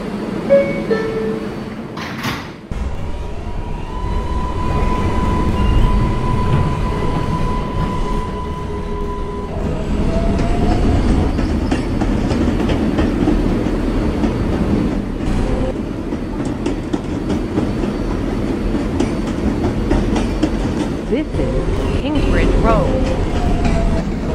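A New York subway R142A 4 train runs on the rails, a loud, continuous rumble with rhythmic clickety-clack and a brief tonal whine. It is heard close from inside, with brief speech early on.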